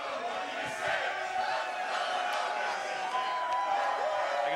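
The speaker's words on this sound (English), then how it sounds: "Listen to this crowd behind us." A large crowd of Cubs fans celebrates after the 2016 World Series Game 7 win over the Indians, a continuous roar of cheering and shouting heard from a short distance, steady and moderately loud throughout.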